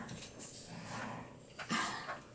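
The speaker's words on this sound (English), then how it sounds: "Dogs are playing again." Dogs playing indoors, with faint scuffling, soft whines and a brief yip or growl-like burst partway through, somewhat distant and quiet with no talking.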